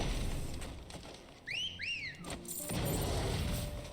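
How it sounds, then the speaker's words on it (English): A whistle in a medieval video game: two rising-and-falling whistled notes in quick succession over a low, rumbling background. "What a whistle."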